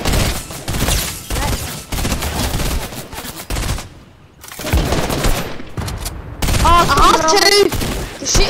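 Video game gunfire crackles in rapid bursts and sustained volleys, with brief lulls, mixed with loud game effects and a voice talking over it.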